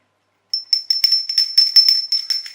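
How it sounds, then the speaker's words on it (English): A small bell rings after a moment of silence, struck again and again in quick irregular jingles, bright and close with a sustained high ring beneath each strike. "Got a bell and another bell"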